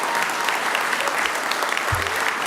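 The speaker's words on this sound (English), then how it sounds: "Let's have one more round of applause for all of the promoted officers." Steady applause from a crowd at a police promotional ceremony in Paterson, New Jersey, dense clapping that holds at an even level throughout.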